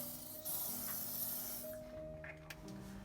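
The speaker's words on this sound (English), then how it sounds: "I have La Roche-Posay again with the Antilios spray, which is for the face, but I use it for other body parts as well" La Roche-Posay Anthelios sunscreen spray hisses out of its can in one steady, close burst, soft and breathy, with no voices over it.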